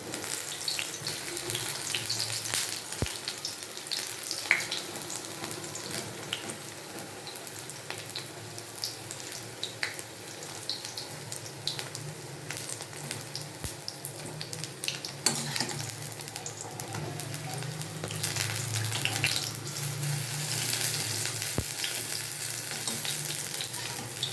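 Jute leaf fritters fry in a pan of oil with a continuous, moderately loud crackling sizzle, punctuated by occasional sharp clicks and swelling bubbling toward the end.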